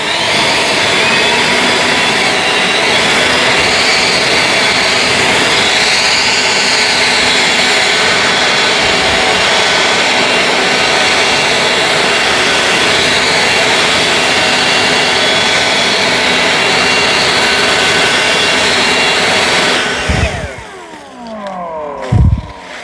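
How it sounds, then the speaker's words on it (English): An EGO LB7650 battery leaf blower roars in turbo mode with a loud, steady, high-pitched whoosh for about twenty seconds, then winds down, close up. "let's put it on turbo and let's see how it does"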